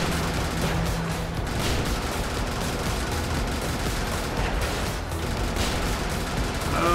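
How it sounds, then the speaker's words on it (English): Mech cannon fire and explosions in the video game Brigador, a dense, loud barrage of booming shots and blasts continuing throughout with no pause. "A nice, well-placed cannon shot."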